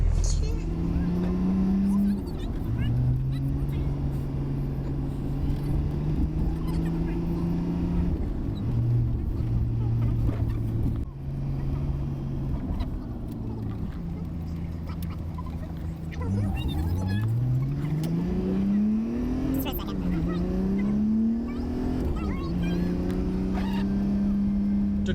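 A 2001 Dodge Cummins 2500 truck drives steadily with a low diesel drone throughout, its engine pitch rising and falling through gear changes and speed shifts, loud and close from inside the cab.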